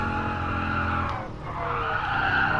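Sim racing car tyres skid and squeal loudly as the car oversteers under braking into a very tight turn, a continuous harsh screech over steady engine drone, dipping briefly midway before surging again.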